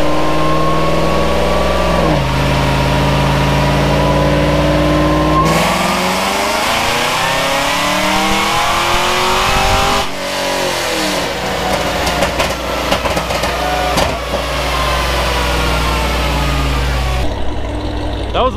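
Chevrolet Camaro ZL1 engine on a dyno with a 100-shot of nitrous, loud and close, revving hard through rising and falling pulls that end in crackling and popping as the throttle drops.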